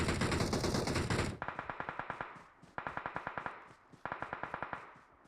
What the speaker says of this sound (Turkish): Oradan silah sesleri geliyordu.